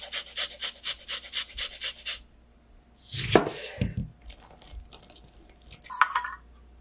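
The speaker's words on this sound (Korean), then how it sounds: "소금 넣고 레몬 껍질 갈아 넣을게요." Lemon peel is grated into a mixing bowl with onion and salt: a rapid, rhythmic scraping at first, then a few heavier knocks and rubbing strokes, close and clear with no talk.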